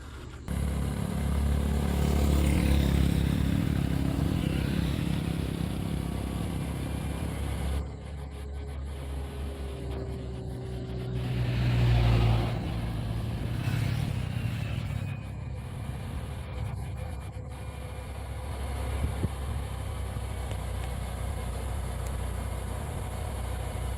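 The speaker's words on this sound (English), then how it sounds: "The truck is agonizingly crawling up the incline." Overloaded truck straining up an 8% mountain grade, a low labored engine drone with clattering, steady and close, swelling briefly as other traffic passes on the slope.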